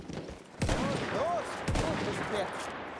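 Gunfire in the Battlefield 1 video game, two sharp shots about a second apart over low ambient game noise, with faint tonal whistles between them.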